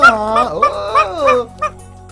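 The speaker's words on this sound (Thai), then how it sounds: "เสียงนี้ฮ่าเจ้าลูกหมา" A puppy gives several short, high-pitched yipping barks close by, with a pause before a final quick yip.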